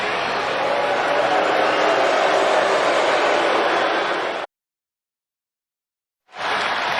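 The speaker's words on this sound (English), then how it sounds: "An electric, sold-out crowd in Chicago, Illinois, witnessing one-on-one action." A sold-out wrestling crowd at WWE Raw in Chicago, Illinois, during a Cody Rhodes vs. Finn Balor match: a loud, dense, continuous roar that cuts out abruptly for about two seconds, then surges back.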